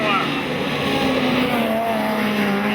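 A speedcar engine roars at full throttle through the turns at Maryborough Speedway on a night race meeting, a loud, continuous high-revving drone with a slowly shifting pitch.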